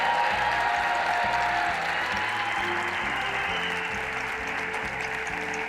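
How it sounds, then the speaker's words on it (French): Sustained applause from a crowd fills the room, steady and loud, with a rhythmic musical beat playing underneath throughout. "On les applaudit."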